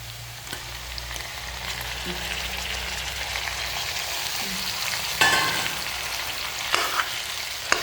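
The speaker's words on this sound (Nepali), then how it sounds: "यसरी म टमाटर एड गर्न गइरहेको छु।" Chopped tomatoes hit a hot pan and sizzle and fry steadily, with occasional stirring clatters and spatula scrapes over a continuous crackle.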